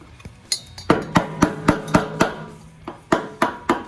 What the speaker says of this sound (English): this top ring, we're just tapping it around so that this thing will pull up out of there